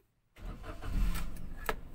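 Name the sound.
car engine starting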